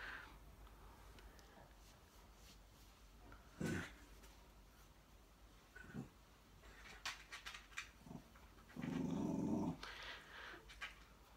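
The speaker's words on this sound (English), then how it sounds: "He's done nothing but bark at everything." A small dog growls low and gives a few brief yips and barks indoors, with quiet gaps between the outbursts and a metallic clatter near the end.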